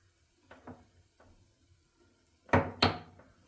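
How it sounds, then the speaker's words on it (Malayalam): Milk poured into a pan of semolina roasted in cow ghee for thari kanji: a few soft clinks, then two sharp, close sizzling bursts that fade quickly. "ഞാൻ 1/2 ലിറ്റർ പാലാണ് എടുത്ത് വെച്ചിട്ടുള്ളത്. അതിലേക്ക് ഒഴിച്ചു കൊടുക്കാം."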